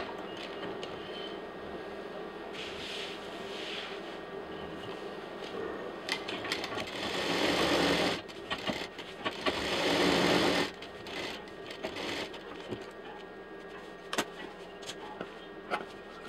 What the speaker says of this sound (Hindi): अब इसके किनारे किनारे हम सिलाई करते हैं।